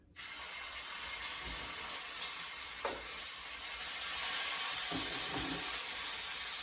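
Salted burger patties sizzling in a hot pan, a loud, even hiss that starts abruptly and holds steady, growing slightly stronger later with a few soft thuds and scrapes.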